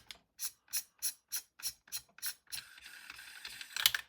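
Front section of an MTW-9 airsoft rifle being unscrewed, giving eight evenly spaced ratcheting clicks close up, then a rougher continuous scraping rattle with a sharp click at the end.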